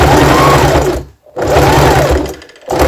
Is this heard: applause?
no